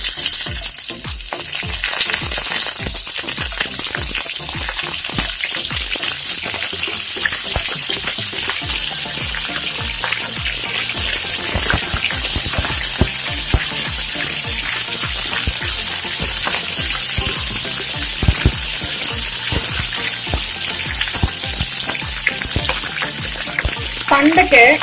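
Fish frying in hot oil with curry leaves laid on top, a loud continuous crackling sizzle with dense popping bursts that runs steadily throughout, close up.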